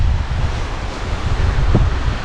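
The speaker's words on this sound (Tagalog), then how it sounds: "Sobrang hangin niya, oh." Strong wind buffets the microphone on the summit of Mt Timbac, a loud continuous rushing roar with gusty low rumbles throughout, no talk.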